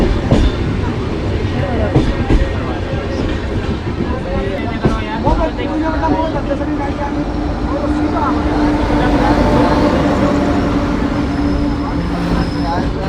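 A train approaching on the rails after dark, a loud continuous rumble and rattle heard from aboard another train, steady throughout with a voice talking over it.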